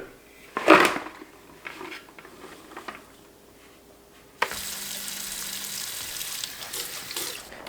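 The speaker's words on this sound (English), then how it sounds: "So as I'm washing the herbs," Herbs and beans are washed at a kitchen sink. A brief clatter and soft handling come first, then tap water turns on and runs in a steady, close hiss.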